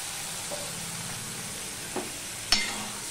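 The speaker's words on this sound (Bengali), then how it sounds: "এবার মশলাটাকে আমি কষিয়ে নেব।" Spice masala sautéing with a splash of water in a pan, a soft continuous sizzle with a few light scrapes and one sharper clink late on.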